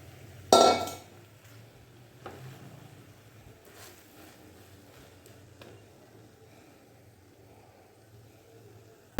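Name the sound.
mixing bread in a pan with utensils clinking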